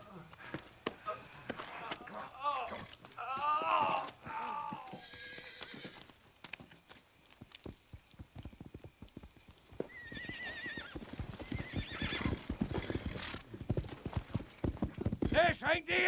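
Hooves clatter in a rapid, uneven clip-clop as horses move off, with several loud neighs and whinnies breaking through and people talking over it.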